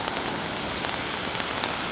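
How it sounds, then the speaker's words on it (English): Heavy rain pours steadily near Central Park in New York, a dense, even hiss of drops spattering on surfaces close by, with no voices. "It's really raining."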